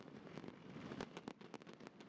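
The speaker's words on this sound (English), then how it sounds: "Wow, look at all those fireworks." Fireworks sound effect from a Kahoot quiz game lobby, a rapid string of sharp crackling pops and bursts over a steady busy background, fairly faint throughout.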